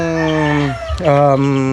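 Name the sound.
rooster crowing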